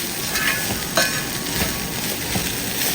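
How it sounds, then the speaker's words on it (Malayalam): Chilli, turmeric, pepper and fennel powders fry with garam masala in a pan, a steady close sizzle with soft scraping stirs running through it, loud and alone. "പൊടികളുടെ പച്ചമണം മാറി കിട്ടുന്നതുവരെ ഒന്ന് ഇളക്കി കൊടുക്കുക"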